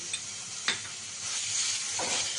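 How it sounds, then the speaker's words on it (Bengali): Fried onions sizzling in a pan as garlic paste is stirred in, a steady bright hiss of frying with a few soft scraping stirs, fairly quiet and with no voices. "আমার পেঁয়াজটা ভাজা ভাজা হয়ে গেছে এবার আমি এর মধ্যে রসুন বাটিটা দিয়ে দেবো"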